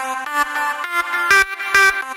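Remix synth melody for a remix, processed with sidechaining, delay and EOS reverb: bright stepping synth notes in short pumping phrases, loud and alone with no voices.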